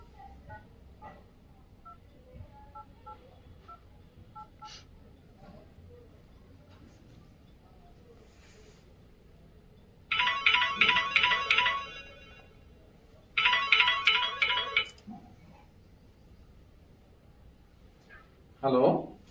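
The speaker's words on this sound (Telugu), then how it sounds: "అలాగే నాగేశ్వరరావు మనవాడికి ఫోన్ చేసి ఇప్పుడే రమ్మని చెప్తాను" A telephone call being placed: quiet scattered dialing tones with faint speech in the background, then two loud bursts of a ringtone, each about a second and a half, followed by another short ring near the end.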